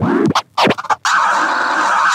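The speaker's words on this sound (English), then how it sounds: "Hardcore scratching." Turntable scratching from a DJ, a few quick, choppy rubs that break into short gaps, then a sustained bright scratched tone, loud and close with no talk.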